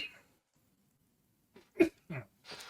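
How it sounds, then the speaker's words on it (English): A single sharp, close sneeze bursts out after a stretch of near silence, followed by a couple of brief spoken sounds. "pardon me, I had to sneeze."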